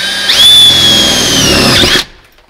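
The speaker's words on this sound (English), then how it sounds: "we got to drill a hole about the size of this nut cert" A power drill drilling a hole in a pickup truck camper roof whines steadily at high pitch for about two seconds, winding up at the start and cutting off abruptly, close and loud.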